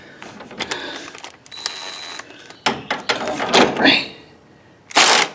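A 3/4 inch socket wrench loosens a bolt on a John Deere 100 Series lawn tractor, giving bursts of ratcheting clicks and metallic clinks, close and uneven, after a brief spoken word.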